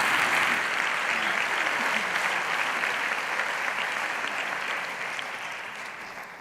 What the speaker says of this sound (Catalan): Rebem, doncs, amb un fort aplaudiment Josep Maria Fonalleres,